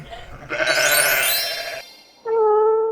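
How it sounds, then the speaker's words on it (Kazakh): A sheep bleats in a long wavering cry, then a second shorter, steadier bleat follows after a brief pause. Loud and close, with no talking. "Қой."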